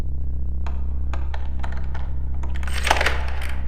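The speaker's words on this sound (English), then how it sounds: "if you select the first lockpick and you hear that clicking sound" A lockpick in the stealth game Thief Gold makes a series of sharp, bright metallic clicks at irregular intervals over a constant low mechanical hum, ending in a denser burst of clicks.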